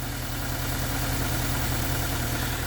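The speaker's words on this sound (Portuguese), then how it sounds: "Como você pode observar, o motor está tremendo bastante." A weak-running car engine idles unevenly and shakes hard, a steady low rumble with rough pulses like an old VW Beetle, loud and continuous throughout.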